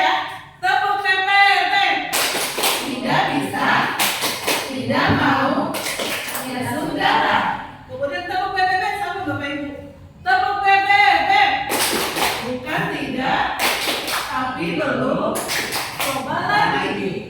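Group of teachers standing to play the rhythmic clapping game Tepuk PPT, repeated bursts of loud unison claps alternating with chanted voices, several rounds over continuous group speech.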